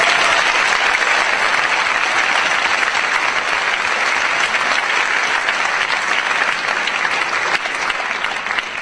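An audience at a national honors music festival claps steadily and loudly, thanking the hosts; dense, sustained applause fills the whole stretch without letting up.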